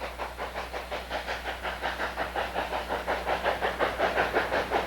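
A Durango & Silverton narrow gauge steam train chuffs in a steady, even rhythm with a hissing rumble of rolling wheels, heard alone from on board at moderate loudness.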